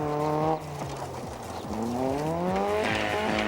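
A rally car slides off the road, engine revving hard through rising and falling gear pitches while tires squeal and skid. The car is fairly close and loud, and its engine note climbs strongly toward the end.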